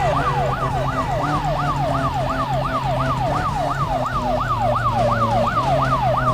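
A police car siren from the video game Need for Speed Most Wanted wails in a steady, rapid rising-and-falling cycle over a low engine rumble, loud and continuous with no talking.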